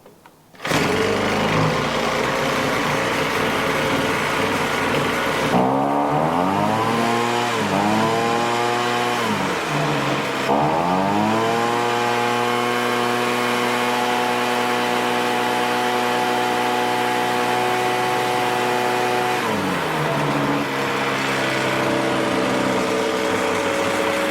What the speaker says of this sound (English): I say we give it another pull. no choke, and see what happens.